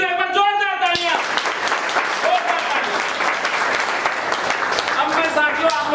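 A crowd at a business leaders' meeting bursts into loud, sustained applause just after a voice on a microphone, with amplified speech and music coming through the clapping near the end.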